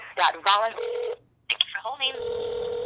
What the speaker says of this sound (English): KITV called the hotline number 2 times